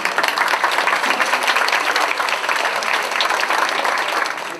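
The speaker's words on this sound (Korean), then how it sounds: "큰 박수로 환영해 주시기 바랍니다." Dense, steady applause from a wedding audience welcoming the bride's mother, many hands clapping together at a constant loud level with no break.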